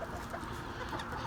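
Silkie chickens cluck softly in a farm setting, a few low, faint clucks spread over a second with no talking.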